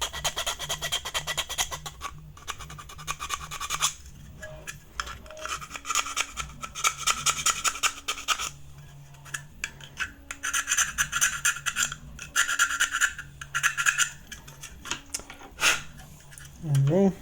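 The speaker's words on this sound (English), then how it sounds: "Some filing. Just to have some clean edges." A metal file rasps back and forth along the edges of a side cutout on an ARP9 magazine, in repeated strokes close by, with a steady hum underneath.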